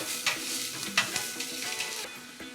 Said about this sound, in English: in goes the vegetables, and I'll put the garlic in